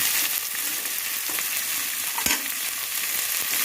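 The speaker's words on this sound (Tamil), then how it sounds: "சின்ன வெங்காயம் பச்சை மிளகாய் எல்லாமே போட்டுக்கலாம் இது வந்து கொஞ்சம் வதங்கினதுக்கப்புறம் நம்ம அந்த பூண்டு போட்டுக்கலாம்" Shallots and green chillies sauté in hot oil for Kongu-style horse gram rice, garlic to follow, a close continuous sizzle with a few light stirring knocks and no speech.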